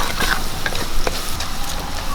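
Mustard, fenugreek, garlic, shallots and curry leaves sautéing in coconut oil, a dense close sizzle with quick crackles and spatula scrapes throughout.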